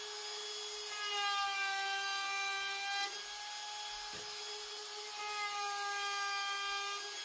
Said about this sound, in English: And now we'll get this routed.